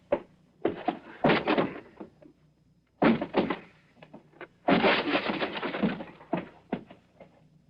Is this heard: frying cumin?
no